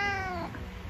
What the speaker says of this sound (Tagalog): meron pong pusa dito na nanggugulong